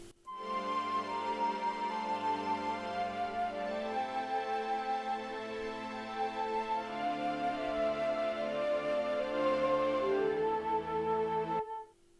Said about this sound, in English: I introduced another string from SRX Orchestra as well as a flute to build up a little bit of more tension